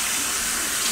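Warm water running from a sink tap before shaving, a steady close rushing splash filling the brief moment on its own.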